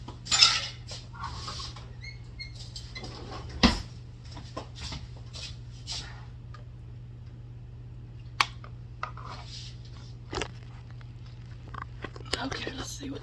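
A spoon and dishes are handled in a home kitchen, with scattered light clinks and taps spread across a quiet room and faint murmured talk between them.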